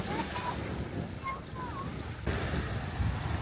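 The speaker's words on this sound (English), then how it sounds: "Can you hear the ocean?" Ocean waves heard outdoors as a broad washing rumble mixed with wind buffeting the microphone, with faint bird chirps above and a surge of louder surf near the end.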